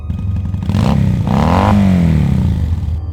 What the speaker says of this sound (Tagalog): Ang tunog ng makina ay nagiging malakas hanggang sa sumasabay ito sa tibok ng puso